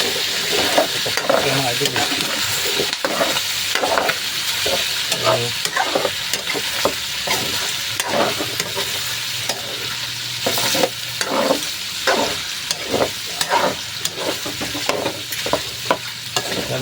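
Chicken fat and liver adobo with string beans is stirred in a pan, scraping and clattering over a steady frying sizzle, while someone talks intermittently nearby.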